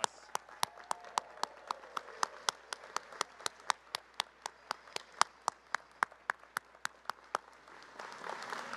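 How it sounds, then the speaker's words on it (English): Graduates at an engineering master's hooding ceremony clap for their families and friends, coming through as a steady, evenly spaced series of sharp, distinct claps with a faint room wash behind and a swell of applause near the end. "Graduates, let's give them a great round of applause."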